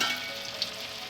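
Chhana (cottage cheese) balls frying in oil in a kadai, a steady soft sizzle running throughout with a couple of brief crackling pops, close and fairly quiet.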